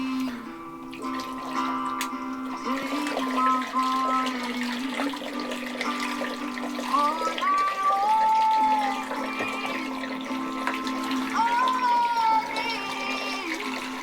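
Hot water runs steadily from a tap into a sink during dishwashing inside a Kia EV6 camping in utility mode. It makes a continuous close splashing pour with some shifting gurgles and no voices.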